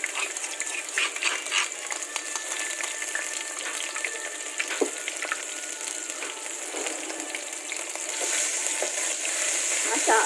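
Pounded spice paste for asam pedas fries in a pan with a steady close hiss and crackle, swelling louder toward the end, while faint household voices murmur in the background.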